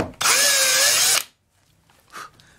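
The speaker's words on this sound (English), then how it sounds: "all you gotta do is just start to drill" Power drill boring into soft aluminum on a Homelite UT22600 repair, a loud steady whine with rising pitch lasting about a second, then cutting off to near silence with a faint brief noise afterward.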